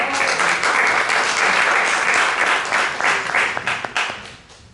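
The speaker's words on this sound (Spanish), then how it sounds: "Un aplauso para él." An audience at a round-table event applauds a guest, with loud sustained clapping that thins out and fades toward the end, a few scattered claps trailing off.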